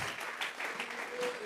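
A church congregation applauding together, a dense, steady burst of clapping from many hands in a reverberant hall, fairly loud and continuous throughout.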